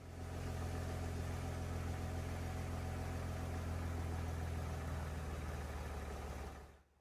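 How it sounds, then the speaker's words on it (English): An Audi 3.0L V6 TDI biturbo diesel engine idling in comfort mode, a low, even, smooth hum with a steady pulse that holds for several seconds before cutting off. "You can hear that the engine is running very quietly."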